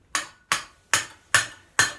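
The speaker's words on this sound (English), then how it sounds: "I'm hammering down kind of at an angle, just a slight angle" A square hammer strikes hot steel at a slight angle on the anvil, five sharp ringing blows evenly spaced about half a second apart, close and loud with no talk.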